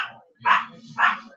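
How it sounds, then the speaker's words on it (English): Dogs barking indoors, two sharp, loud barks about half a second apart, with a faint low hum underneath and a trailing bark at the start. "Who needs a doorbell? I have 3 that bark."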